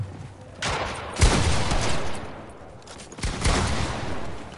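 Shotgun blasts from a Fortnite match, a few loud booming shots spaced apart amid game noise and crackling gunfire, with no voices.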